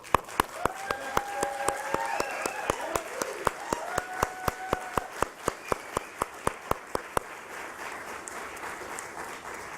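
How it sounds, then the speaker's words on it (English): Audience applause at a NASDAQ opening bell event, dense clapping with sharp louder individual claps close by, voices talking over the start, fading to quiet room tone for the last two seconds. "Certainly worthy of a round of applause."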